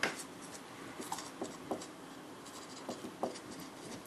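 A pen writes out the first terms of a sequence during a math lesson, quiet scratchy strokes and taps coming in short irregular bursts, close and soft with no voice.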